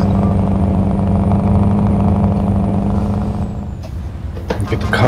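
A Scania truck on the road, its engine rumbling loudly and steadily close by, with a hiss near the end like an air brake releasing.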